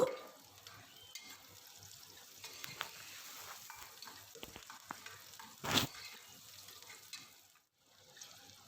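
Pulao ingredients sizzle steadily as they fry in ghee in a pan, with scattered stirring clinks and scrapes and one sharp, louder scrape partway through.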